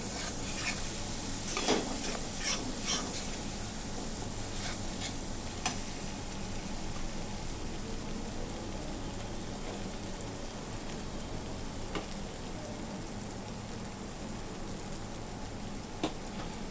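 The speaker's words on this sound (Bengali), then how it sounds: "তো জল দিয়ে গুঁড়ো মশলাটাকেও আমি কষিয়ে নেবো একটু ভালোভাবে।" Ground spices cooking with a splash of water in a pan for prawn malai curry, a steady close sizzle with scattered crackles and occasional spoon scrapes running throughout, no voices.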